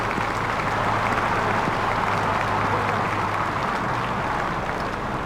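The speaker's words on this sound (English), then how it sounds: "Sehwag raises his bat to the crowd to acknowledge the applause" A cricket crowd at an England versus India one-day international applauds a batsman's fifty, a dense, sustained wash of clapping that stays loud and even throughout, with no voices standing out.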